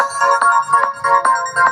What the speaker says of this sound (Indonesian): Ada telepon dari siapa itu?